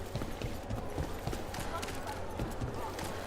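Horse hooves clip-clop steadily in Dragon Age: The Veilguard, an even walking rhythm running under ongoing game dialogue and background music.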